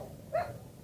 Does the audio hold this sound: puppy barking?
yes